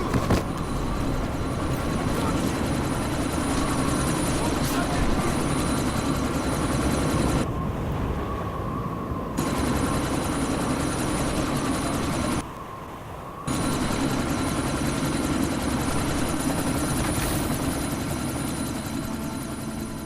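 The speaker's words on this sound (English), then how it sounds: "you need to disable that chopper" A helicopter in a sandstorm in the game Deus Ex: Mankind Divided, a continuous dense rotor roar mixed with wind-driven noise, loud and steady with two brief dips, no talk.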